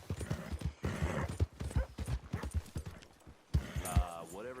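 Horse hooves clip-clop in a steady, close gait in Red Dead Redemption 2, with a whinny rising near the end.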